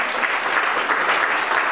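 A church congregation applauds during a worship service, a steady, dense clapping that holds at an even level for the whole stretch, with no voices standing out above it.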